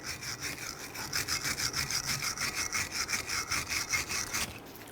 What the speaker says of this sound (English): use your bristle brush, and you want to clean where the replacement sliders are going to go